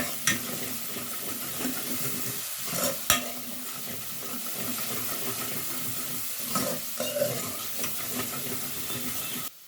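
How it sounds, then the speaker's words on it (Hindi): Tomatoes and meat fry and are stirred in a pan, a steady close sizzle with repeated scraping spoon strokes and a few sharper knocks against the pan, with no voices. "इसको अच्छे तरीके से भूनूंगी ताकि इसमें से खुशबू आने लग जाए।"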